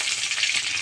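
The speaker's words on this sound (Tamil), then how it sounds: "கடுகு நல்லா பொடியட்டும்." Mustard seeds spluttering in hot oil make a brief, close, crackling sizzle with no voices.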